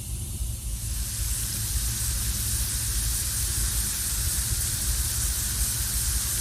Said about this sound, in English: Water, then steam, and listen to it go.